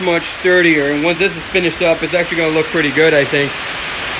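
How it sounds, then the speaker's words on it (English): Rain pounding a tin carport roof makes a steady, loud wash of hiss that runs under someone talking close by. "It's just raining outside. And I have a tin roof on my carport, so it's very loud."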